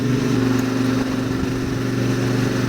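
A motorcycle engine shifts up into fourth gear while riding the mountain roads of the Pyrenees. The steady, close engine drone holds throughout, with a brief dip partway through as the gear changes.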